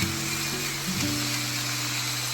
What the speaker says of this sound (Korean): 양념을 붓고 센 불에서 재빠르게 볶아내면 지글지글 하는 소리